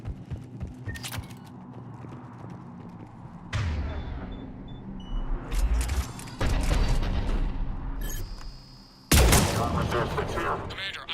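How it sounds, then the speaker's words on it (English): Heavy cannon fire booms through a Mass Effect 3 battle zone, arriving in loud, dense bursts of gunfire-like blasts with sharp onsets, set against a steady low rumble of combat. "The cannon fire is clearing the way."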